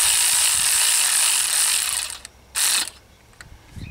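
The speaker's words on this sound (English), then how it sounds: "I'm only using this wrench to pull it up with because it will over torque it" Wrench ratcheting while pulling up a spark plug on a Chevy HHR 2.4L engine: a close, loud run of rapid clicks for about two seconds, then a short second burst of ratcheting after a pause.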